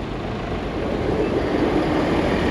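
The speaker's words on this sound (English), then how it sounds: "And we're just in time to see a train passing on the crossing." A Great Western Railway train passes a level crossing, giving a steady broadband rumble that swells slightly as it goes by, with no talking.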